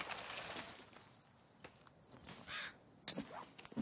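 A crow cawing in the survival video game The Forest, a few harsh calls at mid distance over soft footsteps and rustling ambience.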